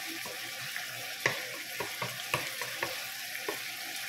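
Ingredients for adobo sautéing in a pan, a soft continuous sizzle broken by sharp clinks and scrapes of a utensil stirring against the metal, close and fairly quiet.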